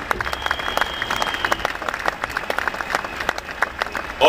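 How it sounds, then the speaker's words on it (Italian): A rally crowd in Milan breaks into applause, dense, rapid clapping that holds steady for several seconds at close range and stands alone without speech. "Un applauso."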